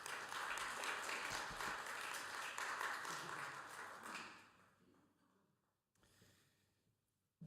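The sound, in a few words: audience applause at a peace conference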